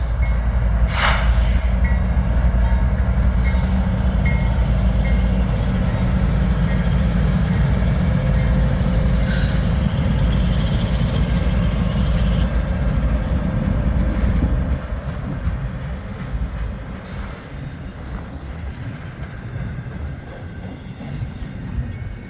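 A model train led by a Weaver U25B locomotive runs on track powered by an MRC or MTH Z-1000 transformer, giving a loud continuous rumbling clatter that eases slightly toward the end.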